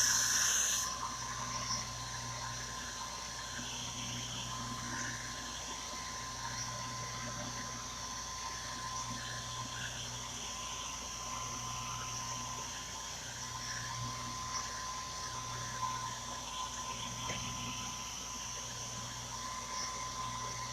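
Steady whir of a hair dryer drying chalk paste on a Chalk Couture craft project, running continuously and fairly loud at close range with a faint low hum beneath.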